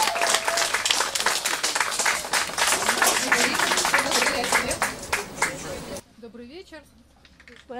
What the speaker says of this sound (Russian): Давайте ее поддержим аплодисментами.